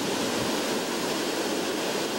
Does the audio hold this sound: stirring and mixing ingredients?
no